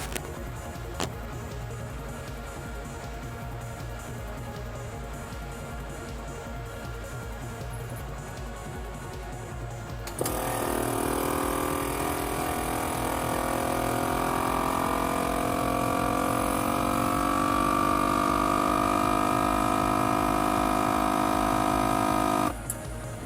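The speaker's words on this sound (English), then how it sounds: "Put it onto the top of your jar, and it will suck out all of the air from the jar," Electric vacuum pump drawing air out of a jar of dehydrated kale powder to seal it for long-term storage; a low hum runs first, then a louder steady whirring drone takes over for about thirteen seconds before cutting off.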